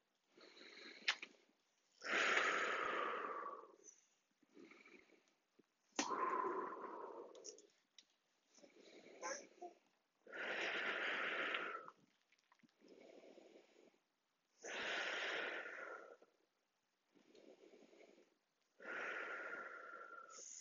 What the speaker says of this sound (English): we're going to do 5 big belly breaths